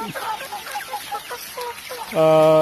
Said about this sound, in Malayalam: എൻ്റെ ഫാമിലത്തെ കോഴികൾ ഇപ്പോൾ അവരെ ഞാൻ ജസ്റ്റ് പുറത്തേക്കൊന്ന് വിട്ടിരിക്കുകയാണ്